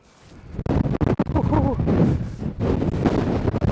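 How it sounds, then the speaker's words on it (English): Strong wind buffeting the microphone on the summit of Pike O Blisco in the Lake District, a loud continuous rumbling roar with gusty surges, and a voice briefly audible beneath it. "The wind is coming now."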